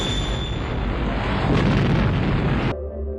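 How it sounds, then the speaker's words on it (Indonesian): A heavy rumbling bomb explosion from the film Mad Max 2: The Road Warrior roars for a few seconds, then cuts off abruptly to near quiet. "ketika Max hendak dibunuh, jebakan bom yang ada di Pursuit Special pun meledak hingga menewaskan para penjahat"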